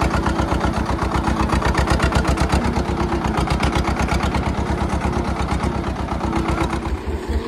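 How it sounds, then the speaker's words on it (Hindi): Tractor engine running with a rapid, even thumping chug, loud and close, steady throughout before easing slightly at the end, no speech. "बहुत दिनों बाद ट्रैक्टर चलाते हैं दोस्तों"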